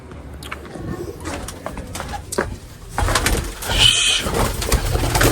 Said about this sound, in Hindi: बहुत से कबूतर अंदर आ गए हैं जी।